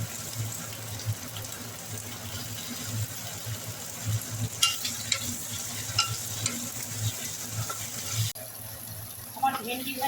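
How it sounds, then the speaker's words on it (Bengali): Okra (bhindi) fries in hot oil in a kadai, giving a steady sizzle broken by stirring scrapes and a brief splash of running water near the end. "আমার ভেন্ডি ভাজা হয়ে গেছে"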